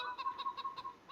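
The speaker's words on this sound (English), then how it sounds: "We have our chickens." Chickens cluck in a farming video game, a quiet run of short, evenly spaced clucks over a steady faint background tone.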